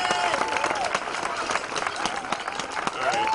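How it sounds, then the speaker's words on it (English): Crowd applause at a street rally for Daniel Prude in September 2020, a continuous wash of clapping with scattered louder claps and a faint whistle or cheer running through it. "Give him a round of applause."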